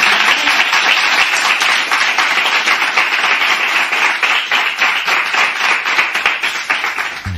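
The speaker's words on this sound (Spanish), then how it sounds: "Un aplauso." Loud, dense audience applause fills an award ceremony for the Ciudad de Villacarrillo prize, steady clapping from many hands continuing throughout.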